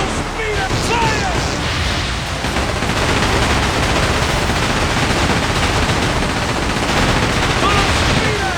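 Pirate ship cannons fire in a naval battle in the game Like a Dragon: Pirate Yakuza in Hawaii, with dense, continuous booming and crackling gunfire filling the clip and shouted voices mixed in.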